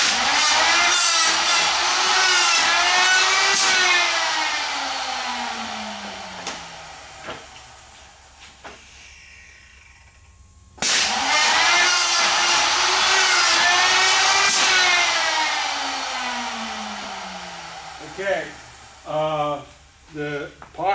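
A modified 950-3 hinge jamb machine cuts hinge pockets into a door jamb, a loud whining cutter and motor sweeping up and down in two long passes with a brief lull between, then shorter bursts near the end.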